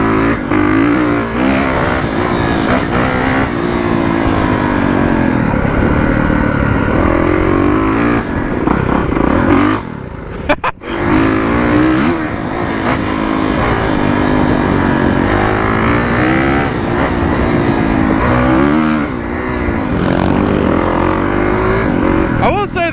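A dirt bike engine revs and buzzes continuously while riding around Mudbash park, loud and close with rising and falling throttle, briefly cutting out near the middle before picking up again.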